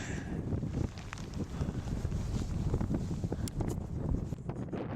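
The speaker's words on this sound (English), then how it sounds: "It's cold and windy." Steady cold wind buffets the microphone in low rumbling gusts on a 13,047-foot mountain summit, constant throughout with no voices.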